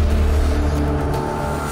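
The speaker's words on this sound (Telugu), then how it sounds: "ఆటో" An auto rickshaw engine runs with a steady low, throbbing drone, close and continuous throughout, with no speech over it.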